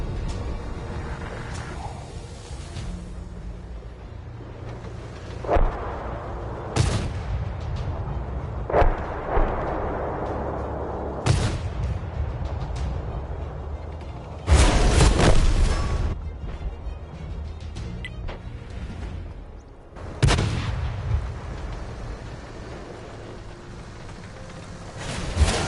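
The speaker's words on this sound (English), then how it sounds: "What is shooting you then, Ben?" Tank cannons fire in the online game World of Tanks, heavy booming shots and explosions at irregular intervals, several loud blasts over a continuous rumbling engine bed, with no talk.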